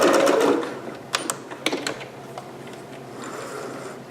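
A sewing machine back-stitches the seam of a green performance gown, giving a short burst of mechanical whirring followed by scattered clicks and taps of the mechanism, close by and moderately loud with no talk.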